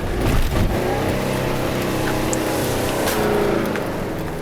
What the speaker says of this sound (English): When I start to level out, I'll give it gas.